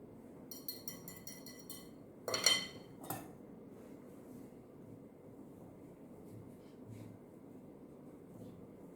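A whisk clinks against a bowl, stirring salt into flour and baking soda for banana bread: a quick run of light metallic taps, one louder scrape-and-clatter burst, then a few faint scattered clinks over quiet room tone.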